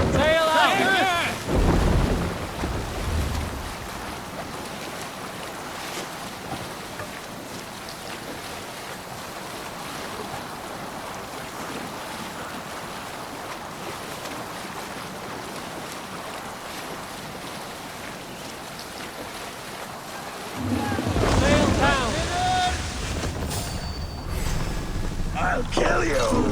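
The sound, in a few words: Viking longship sailing on the sea, Assassin's Creed Valhalla video game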